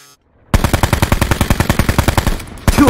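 Rapid burst of automatic gunfire from the Fortnite battle royale game, a dense run of about twenty loud, evenly spaced shots close up and alone, with a final shot at the end.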